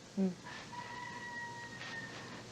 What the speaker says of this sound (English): Didn't know we had chickens so near.